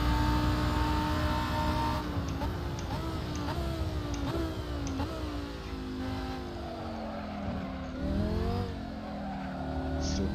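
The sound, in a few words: Lamborghini Huracan Performante racing at Monza in video game Assetto Corsa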